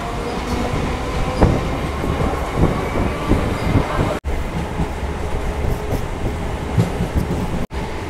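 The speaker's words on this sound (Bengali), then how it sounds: "আর ডাউনও একটা ট্রেন ঢুকেছে দেখো 2 নম্বর প্ল্যাটফর্মে" A down train rolls into platform 2 at a suburban electrified station near Birati, a loud continuous rumble with clattering wheels and faint squeals, close and steady throughout.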